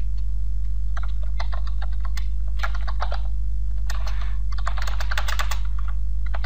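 Irregular bursts of typing on a computer keyboard while entering text into a Microsoft Word document, quick clusters of key clicks with short pauses, close and clear over a steady low hum, no talking.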